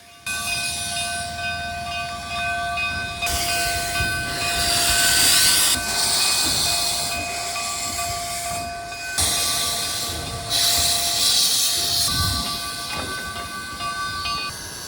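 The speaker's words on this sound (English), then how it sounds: "So there's the train." A 100-year-old steam train rumbles past up close with loud, steady roaring and hissing, and a sustained tonal horn-like whine running through most of it.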